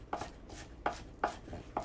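Knife coarsely chopping scallions and fresh herbs on a board, four crisp, evenly spaced cuts close by, with no voices.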